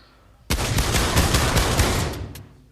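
Pistol fired in the Pavlov VR video game, with a rapid string of loud shots starting abruptly, then a sustained volley of closely spaced cracks before ending in a single later shot.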